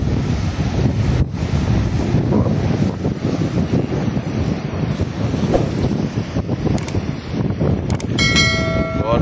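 Large typhoon-driven ocean waves surge continuously alongside gusting wind buffeting the microphone, a dense roaring wash filling the whole stretch with no speech.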